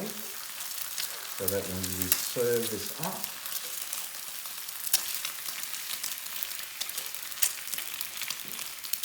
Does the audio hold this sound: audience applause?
no